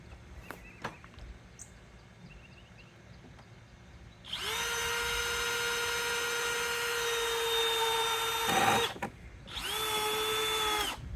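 A power drill drives screws into a wooden tomato planter in two bursts, a long steady whine of about four seconds and then a shorter one, with faint knocks before it.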